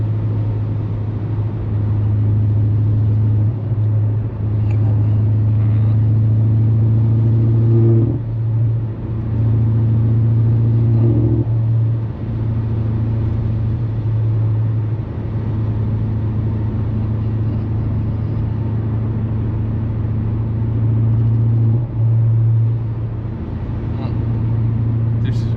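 BMW F90 M5 sedan driven along back roads, a steady low engine drone with a few brief swells of revving, heard from inside the cabin, someone talking over it.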